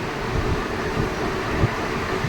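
Train rolling slowly over the Shantipur rail gate crossing into Shantipur station, heard from on board: a steady broadband rumble with low clatter and wind noise, loud and continuous, no talk.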